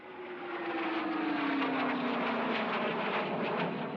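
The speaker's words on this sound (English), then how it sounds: "I've never seen any planes like that before." Jet aircraft flying over in a video game, a loud broad roaring rush with a slowly falling engine whine, building in over the first half second and holding steady before cutting off abruptly.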